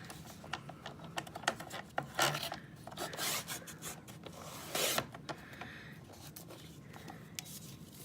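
A blade saws through a thick rolled paper tube for beads, giving a quiet, uneven rasping scrape with short rubbing strokes and a few louder bursts, heard close and without talk.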